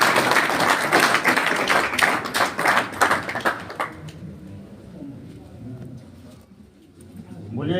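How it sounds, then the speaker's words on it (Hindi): Hearty audience clapping welcoming a newly elected union president at a local gathering, loud dense applause for about four seconds that abruptly drops away into quieter room sounds and faint voices. "जोरदार तालियों के साथ स्वागत करेंगे।"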